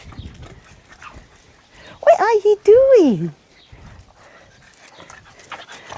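A small puppy gives a short burst of high, yelping barks and whines close by, with soft panting around it and someone talking before and after.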